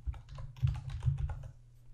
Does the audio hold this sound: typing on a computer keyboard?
yes